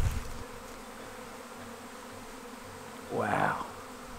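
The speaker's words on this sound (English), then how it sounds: "Too much buzzing, it's a bit loud around here, is it?" Swarming honey bees buzzing in a steady, continuous drone outdoors on a small farm, moderately loud throughout, with a brief spoken exclamation near the end.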